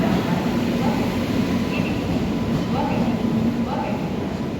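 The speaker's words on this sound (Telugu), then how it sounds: "సో ఫైనల్లీ మా ట్రైన్ వచ్చేసింది" The Tata Yeshwanthpur Express pulls in at a station platform with a loud steady rumble and rolling clatter, people talking amid the noise.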